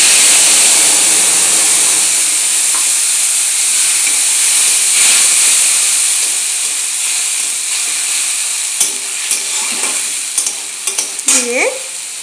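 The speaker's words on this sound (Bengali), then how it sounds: "এখন পেস্টটাকে কড়াইতে দিয়ে দেব।" Paste of ten to twelve green chillies and a little ginger sizzles loudly and steadily in a hot wok, a bright continuous frying hiss with faint stirring scrapes near the end.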